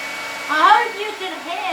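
A hair dryer blows steadily and close by during a home haircut, a constant whooshing hum with a voice faintly audible underneath.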